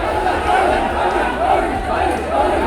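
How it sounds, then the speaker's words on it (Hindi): A large crowd at a Muharram procession chants religious slogans together, a dense, steady roar of many voices swelling in waves, heard from amid the gathering. "इस पर भीड़ में शामिल लोग वहीं पर या हुसैन के नारे लगाने लगे।"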